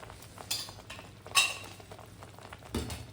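A spoon stirring frying masala with salt and turmeric in a pan, a few scraping and clinking strokes over a faint sizzle, without speech.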